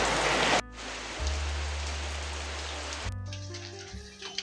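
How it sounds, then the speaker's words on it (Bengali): Heavy monsoon rain pours steadily outside a home, a dense continuous hiss with water drumming on surfaces, loud and unbroken, with no voices over it. "এদিকে তো ঝমঝমায় বৃষ্টি হইতেছে"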